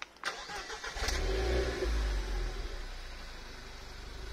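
A Renault Clio 4 RS starts up: a brief starter crank and catch, then the engine settles into a steady, fairly loud idle heard from close by.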